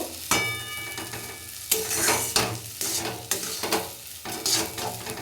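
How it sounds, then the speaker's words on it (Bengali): Semolina is stirred and roasted in a pan after its water has dried off, being worked until crumbly. Close, continuous scraping strokes run over a steady dry sizzle, with no voices. "এবার সুজিটাকে আমি ঝুরঝুরে করে নেব।"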